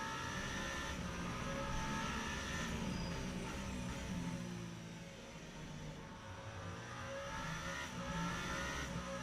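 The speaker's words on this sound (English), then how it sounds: "The muffled sound of car is like cradling me." Race car engine in the Le Mans Ultimate racing game at COTA National circuit, heard muffled and steady, a continuous droning hum with gentle rises and dips in pitch, no talk.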